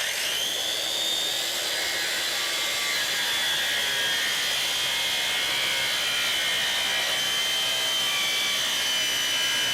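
Power saw cutting through the metal of a camper trailer during a flatbed conversion, a continuous loud high-pitched whine and rasp that holds steady throughout, with no talk.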